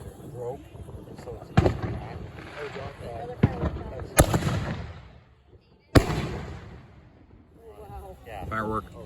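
Fireworks burst outdoors in a few sharp, scattered bangs over a rumbling, noisy background, while people talk nearby.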